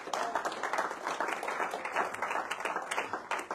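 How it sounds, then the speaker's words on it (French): A church congregation applauds together, a dense, steady patter of many hands clapping throughout, moderately loud and slightly distant. "Acclamons pour la gloire de Dieu."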